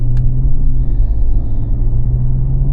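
A BMW G30 540i with an aftermarket intake gives a steady, low engine rumble through gear changes, fairly loud and close, with a brief higher click near the start and no talking.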